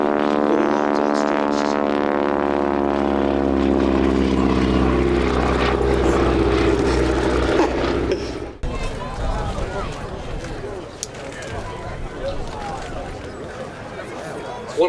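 A biplane with a wingwalker hanging from the lower wing flies past at an airshow, its propeller engine droning loudly with a falling pitch, then fading into a rougher, more distant drone while an announcer talks over it.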